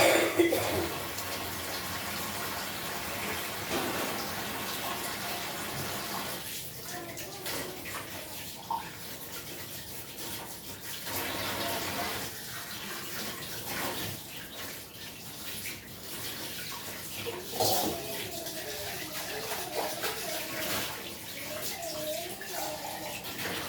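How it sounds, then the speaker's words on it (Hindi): Water runs from a tap as hands are washed after kneading dough, a steady broadband rush that continues throughout with small splashy variations, close by. "और यहाँ धो लेते हैं हम हाथ"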